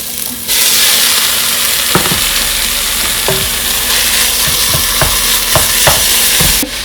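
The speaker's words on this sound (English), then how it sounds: "So now we're gonna go ahead and add our ground beef." Ground beef sizzles and fries in a pan with a steady hiss, broken by several sharp scraping strokes as it is stirred. Everything is close-up and loud, with no talking.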